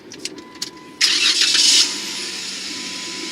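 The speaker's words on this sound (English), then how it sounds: "Now, turning this car on" A few soft clicks come first, then the engine of a 2013 Jeep Wrangler Unlimited Rubicon cranks and catches with a loud burst before settling into a quieter, steady idle.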